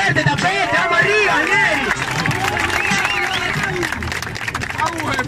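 Audience at a Spanish-language rap battle final, applauding and cheering loudly and steadily, with crowd babble and shouting voices mixed throughout.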